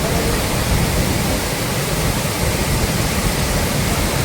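Soochipara waterfall in Wayanad roars with a dense, continuous rush of falling water, loud and close and unbroken throughout, with no voices.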